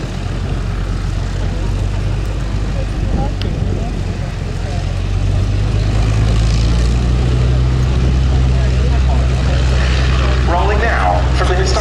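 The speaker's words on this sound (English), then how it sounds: "Rolling now from the historic aircraft collection, the Airco DH-9." An Airco DH-9 biplane from a historic aircraft collection at Duxford runs its engine as it rolls, a loud steady propeller drone that builds slightly, with a commentator talking over it at an air show.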